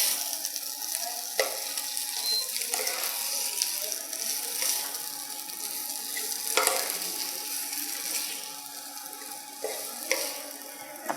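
Dabeli masala is stirred with peanuts, sev and onion in a cooking pot, making soft scraping and rustling strokes that repeat at an irregular pace, with a few louder spoon knocks, close by and with no talking.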